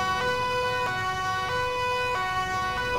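An ambulance siren in GTA 4 with the LCPDFR mod wails steadily and loudly, its repeating tonal cycle continuous over a low engine and road rumble, with no talk.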